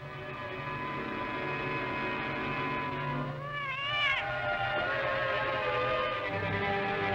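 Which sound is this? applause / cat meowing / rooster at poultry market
cat meowing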